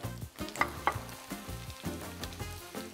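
Chili pepper bugak fries in hot oil over high heat, a close, busy crackle of bubbling and popping with sharp spits riding on a continuous frying hiss, with no talk.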